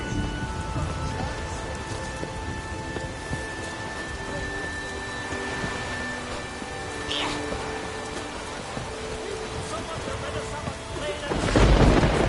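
Steady rain pours throughout in The Witcher 3, with a low rumble of thunder swelling near the end and faint voices mixed in.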